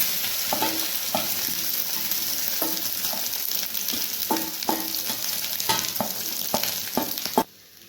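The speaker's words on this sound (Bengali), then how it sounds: "তো আমার এদিকে তেলটা গরম হয়ে গেছে, তো আমি পুরো মিশ্রণটাকে আমি এইটার মধ্যে দিয়ে দেবো।" Bread and egg mixture frying in hot oil for a homemade desi pizza, a steady broadband sizzle with soft scraping clicks now and then, cutting off abruptly near the end.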